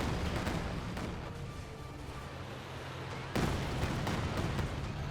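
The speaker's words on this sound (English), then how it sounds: "So all the artillery is firing on what exactly?" Artillery and Katyusha rockets fire in Company of Heroes 2, a dense rumbling barrage of overlapping booms that stays steady, then jumps louder partway through with fresh blasts.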